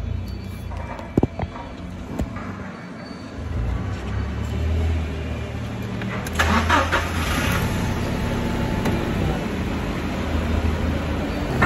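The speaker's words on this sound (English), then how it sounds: "Hop in this forklift here real quick." A forklift engine cranks and starts in a freight dock setting, rising from a low rumble to a steady mid-pitched idle that carries on close and loud to the end.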